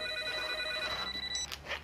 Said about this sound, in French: Marianne, téléphone, c'est Annabelle.